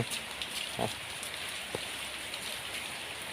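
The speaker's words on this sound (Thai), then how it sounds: "ฝนตกทางนี้เนาะ" Steady rain falls in a soft, even hiss, with a few faint drips and taps standing out now and then.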